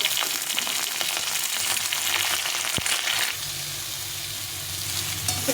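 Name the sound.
potatoes, beans and brinjal frying in a pan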